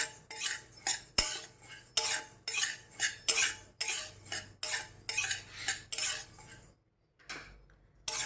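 Rice and two kinds of lentils dry roasting in a pan for Maharashtrian yesur masala, stirred with a spoon in steady scraping strokes, with a brief quiet gap near the end and no talk.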